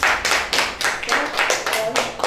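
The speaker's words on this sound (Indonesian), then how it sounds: "untuk mengakhirinya kita aplaus dulu untuk kita semua" An audience claps together at the close of a teacher's presentation on positive school culture, with bursts of applause rising and falling in rough pulses over a couple of seconds and voices faintly mixed in.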